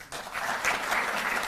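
An audience at a ceremony honoring national athletes in Delhi breaks into loud, dense applause, a continuous wash of clapping that swells after a brief quieter opening and carries on without talk.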